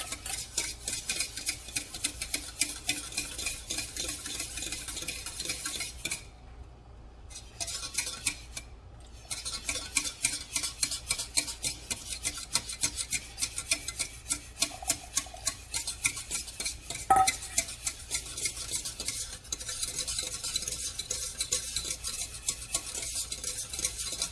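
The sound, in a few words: stirring chocolate bread pudding mixture into chocolate milk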